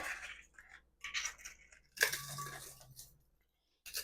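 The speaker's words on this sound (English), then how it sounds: "So I'm gonna break it apart" Eggshells snap and crackle as hands break them apart in a few short, crisp bursts with quiet gaps between, close and fairly soft.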